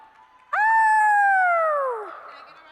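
A student at a new student convocation imitates a howl with her voice, one sustained wailing tone held for about a second and a half, close and loud, then sliding downward and cutting off.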